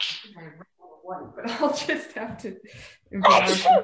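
A single sharp, loud sneeze bursts out near the end, after a woman's calm speech.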